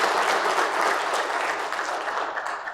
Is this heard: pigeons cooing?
no